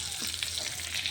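Chopped bay leaves fry in mustard oil with a steady, dense sizzle that holds evenly throughout, close and fairly loud, with no voices over it.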